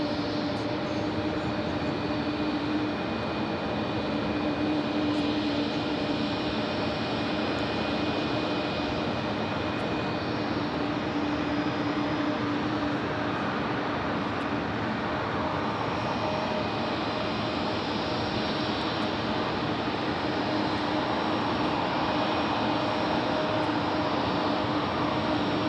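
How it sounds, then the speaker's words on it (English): A UPS Airbus A300 climbing steeply off runway 13 right at New York JFK produces a constant, broad jet engine roar with a faint tonal whine, steady and unbroken, no voices present. "we do have that UPS Airbus A300 shooting up like a rocket off of 1-3 right"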